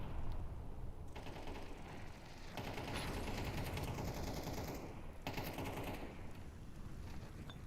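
AK rifle fire in a Counter-Strike match on a professional esports map, rapid rattling bursts that swell into sustained spraying through the middle and end of the stretch, fairly distant and steady, with no talk.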